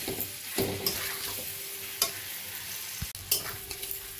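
Spices for a rohu fish curry sauté in a pan while a spoon stirs and scrapes through them, giving a steady close sizzle broken by a few sharp scraping knocks.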